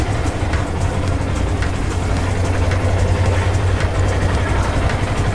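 A motorbike engine idles steadily after a choke start, giving a low, constant rumble with no revving and no voices over it.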